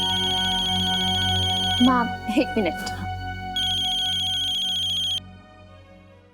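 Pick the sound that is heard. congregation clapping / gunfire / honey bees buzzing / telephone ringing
telephone ringing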